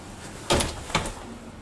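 An elevator door slides shut, giving two soft knocking thumps close together against a quiet, low background hum.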